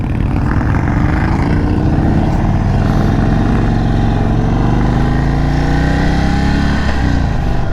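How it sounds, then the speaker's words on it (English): A 2022 Indian Chief Dark Horse motorcycle engine rumbling loud and close, a continuous deep drone with shifting tone as the revs rise and fall while riding, with no talking. "Red line is 5000, but it really starts to rumble there at about 3000."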